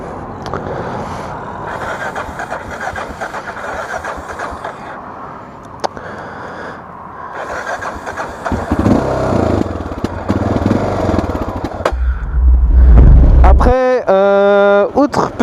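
A Honda NX 650 Dominator single-cylinder motorcycle runs with a rough, steady thump, rising louder toward the end alongside wind buffeting and mechanical clatter, while a person talks over it at times.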